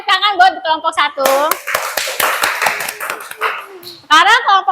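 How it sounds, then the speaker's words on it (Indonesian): A primary school class claps for group 1 in a classroom, a short burst of rhythmic children's clapping between children's chanting and voices. "sekarang tepuk tangan buat kelompok 1"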